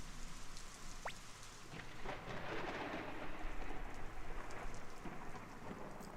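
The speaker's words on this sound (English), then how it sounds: "Listen to that rain and lightning." Steady rain pours in a thunderstorm scene in the video game Suikoden, with low rumbling thunder rolling underneath and a brief sharp streak near the start. It sounds continuous and dense, with no voices.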